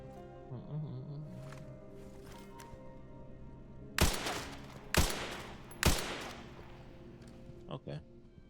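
Gunfire in Resident Evil 9: Requiem: three loud, sharp shots ring out about a second apart over quiet ambient game sound, and a couple of fainter thuds follow.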